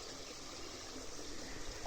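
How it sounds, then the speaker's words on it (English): Floodwater trickling through a backyard wall on a small mountain in Japan, a faint continuous hiss of running water with no distinct drips, steady and low throughout. "You can hear the water coming through the wall there, right?"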